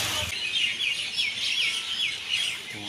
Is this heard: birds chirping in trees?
yes